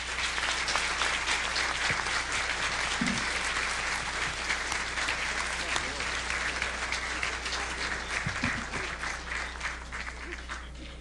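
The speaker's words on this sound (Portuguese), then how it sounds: "E eu os conclamo a aprová-lo através de uma salva de palmas." A conference assembly of a mathematics society applauds to approve a motion, sustained clapping from a large crowd throughout with a few faint voices mixed in.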